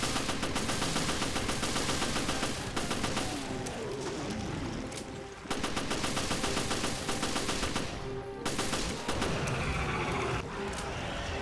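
Pistol fire in the Resident Evil Revelations Raid mode, loud and dense, with rapid repeated shots rattling on almost without pause and blending with other combat noise throughout.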